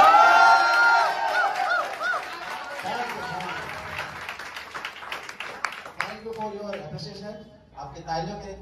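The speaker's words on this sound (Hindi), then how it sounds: "आपके तालियों के लिए थैंक यू" An open-mic poetry audience claps and whoops after a recitation; loud cheering voices and scattered claps come first, then fade as a performer begins speaking over the last of the noise.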